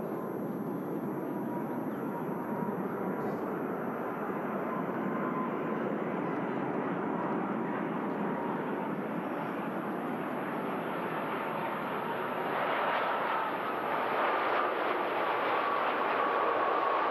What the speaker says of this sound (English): And Virgin Atlantic A330 just about to land in from Orlando.